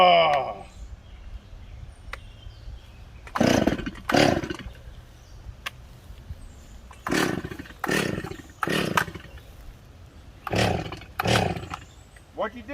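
A chainsaw felling a decent-sized tree, its engine roaring in several separate bursts of a second or two, with quieter gaps between revs and a voice briefly heard.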